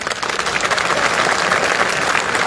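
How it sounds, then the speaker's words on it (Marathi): A dense crowd at a hunger strike rally in Jalna claps loudly and continuously, a steady wash of applause with no pause. "आपण सगळ्यांनी हे मी खरं बोलतोय की कसं टाळ्या वाजून सरकारला सांगा"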